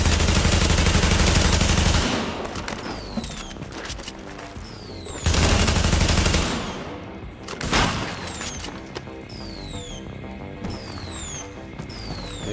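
Turret gunfire in the video game The Division's Survival mode, two loud sustained bursts of rapid fire with quieter stretches of distant shots and mechanical sounds between them.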